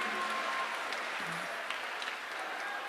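A crowd at a Maha Kumbh gathering breaks into sustained applause welcoming Swami Ramdev, a dense even wash of clapping held at steady volume throughout.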